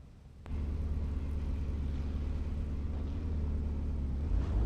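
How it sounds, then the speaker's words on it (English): Race car engines in a racing sim video game on the Daytona road course, a continuous low rumbling drone that starts abruptly and holds steady at a moderate level. "Yeah, I can hear the engines."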